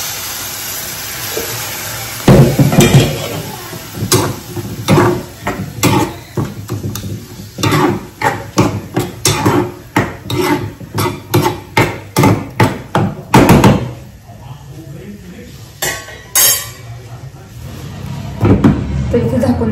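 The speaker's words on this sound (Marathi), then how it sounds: "इथे मस्त गुळ आहे तो गुळ किसून घेते" A lump of jaggery being grated by hand in a home kitchen, giving repeated scraping strokes in a steady rhythm, close and fairly loud, with a few pauses and some background noise.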